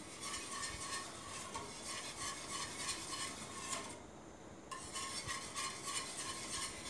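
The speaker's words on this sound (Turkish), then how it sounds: "Karıştırmaya devam edeceğim." A quinoa diet pudding, sweetened with molasses and no sugar, is stirred in a pot, a steady scraping and swishing with a faint sizzle that runs without pause apart from a brief lull near the middle.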